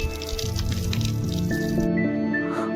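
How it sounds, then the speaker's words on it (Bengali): Hot water running from a tap fed by a supply pipe on a wood-fired heater in a Himalayan village, a close, steady splashing trickle with dripping and gurgling, with a faint tonal hum underneath. "আর এই যে সাপ্লাই এর পাইপ, এখান দিয়ে জল আসে, আর এই কলটা চালালে"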